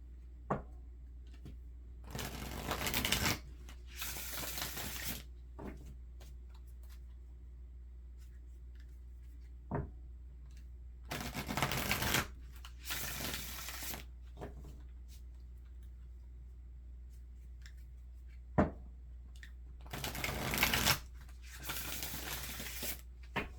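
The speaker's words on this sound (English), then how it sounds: "If the shuffling becomes too long, because I have a tendency to just shuffle and shuffle until it feels right," Tarot cards being shuffled in several separate bursts of riffling and sliding, close and crisp against a quiet low hum, with small taps and clicks between bursts, no talk.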